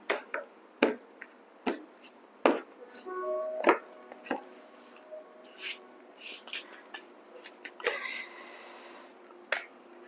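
A deck of tarot cards being cut and shuffled by hand, a series of crisp close card slaps and soft papery riffles in quiet surroundings, with faint murmured speech in places.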